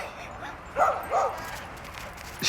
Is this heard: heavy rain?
no